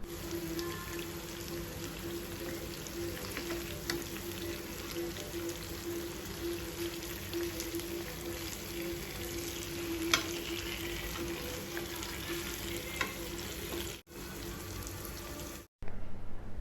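Pieces of fish sizzle steadily in hot oil in a pan, a continuous crackling fry that holds at an even level, with a brief break near the end.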